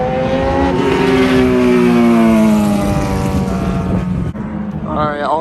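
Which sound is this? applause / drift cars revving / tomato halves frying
drift cars revving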